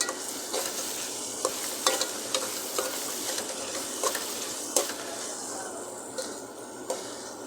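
Tomato, onion, green chilli, ginger, garlic, coriander and chilli powder fry in a pan for a potato-cauliflower curry, with a continuous sizzle and repeated sharp scrapes of stirring, close and fairly loud.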